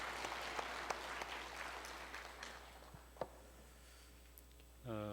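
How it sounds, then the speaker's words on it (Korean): Congregation in a Korean church service applauding in worship, a soft, distant patter of clapping that thins out and fades, followed at the very end by a voice starting to speak. "영광의 박수를 하나님께 드리겠습니다"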